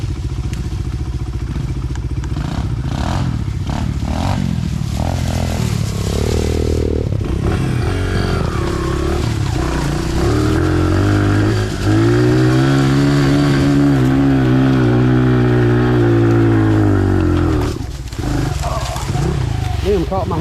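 A small dirt bike engine revs hard while climbing a wooded hill under a large rider, a loud, close, continuous rasping drone that rises and falls with the throttle and climbs to a strained whine near the end.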